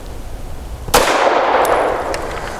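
A single sharp gunshot from an FN 509 Midsize Tactical pistol at a shooting range, a loud close crack with a ringing decay trailing off over about a second and a half.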